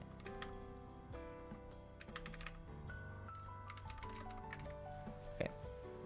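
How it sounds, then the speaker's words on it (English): Computer keyboard typing while coding a game in Godot, with quick, light key clicks running steadily over tonal background music. "Am I typing this right?"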